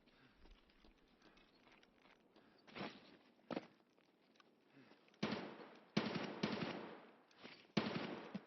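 Heavy gunfire from a large weapon in Escape from Tarkov on the Shoreline map, a few loud booming bursts that grow closer and stronger toward the end, with quieter distant crackle between them.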